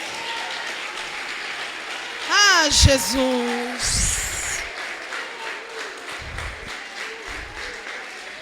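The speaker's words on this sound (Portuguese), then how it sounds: "com as mãos você aplaude" A church congregation applauding during a sermon, a broad wash of clapping under the preacher's amplified voice, with a short exclamation rising over it partway through.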